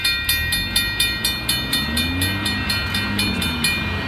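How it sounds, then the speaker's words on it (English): A northbound Union Pacific intermodal freight train rolls past close by at Oltorf Street in Austin, Texas, its wheels clacking in a fast, regular rhythm over a loud, rumbling roar with a faint high tone above. "northbound Union Pacific of the intermodal train at oltorf in Austin, Texas"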